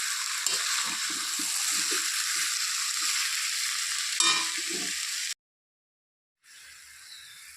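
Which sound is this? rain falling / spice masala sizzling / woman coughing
spice masala sizzling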